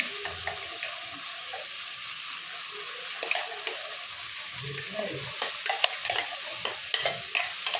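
Ground masala paste being stirred into a frying prawn masala, with a steady close sizzle under soft, irregular scraping and stirring knocks.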